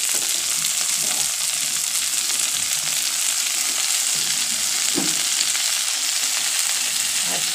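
Snake gourd sizzles steadily in oil in a pan, a constant loud hiss with occasional soft stirring knocks and scrapes, close up and without talk.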